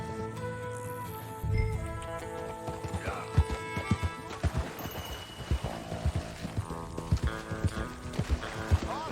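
Horse hooves clip-clop at a steady trot in Red Dead Redemption II, with rhythmic close thuds over a bed of game music and ambient sound, with no talking.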